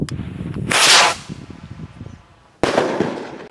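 Nattu Vedi rocket firecracker launching: a loud whooshing burst as it takes off, then a crackling trail fading, and a sharp loud bang near the end.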